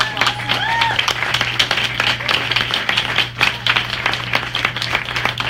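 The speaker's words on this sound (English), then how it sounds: "Let's give them a big round of applause." Audience gives a round of applause at an evening policy platform launch event, many hands clapping in a steady, dense wash that fills the whole stretch, with a low hum beneath it.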